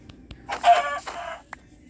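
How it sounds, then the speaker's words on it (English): Blocky Minecraft chicken giving a short burst of clucks in the middle, then a single brief cluck near the end, fairly close and clear with no voices over it. "Oh, it's a chicken."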